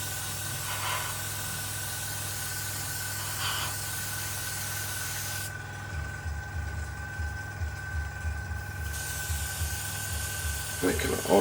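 Steady hissing spray from an aerosol can painting a part of a Tamiya 1/32 F-16CJ model kit runs through most of the clip, with low rumbling background noise and some brief handling sounds near the end.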